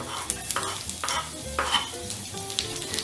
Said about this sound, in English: I'm gonna add in some garlic